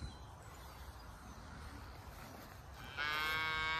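Cattle moo during a move from a cover crop field to pasture: a long, loud bellow rises near the end over steady outdoor rumble and wind, with earlier low lowing faint in the background.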